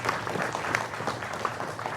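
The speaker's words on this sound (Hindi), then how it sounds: "जोरदार तालियों के साथ अभिनंदन करिए हमारे चारों मेहमानों का" Studio audience applause welcoming four guests on a Hindi political debate show about the Delhi election, a brief, steady patter of clapping hands close by.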